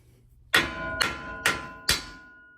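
Four sharp metallic hammer taps on the tie rod of a 2024 Ford F-150 during a leveling kit install, evenly spaced about half a second apart, close and ringing briefly after each strike.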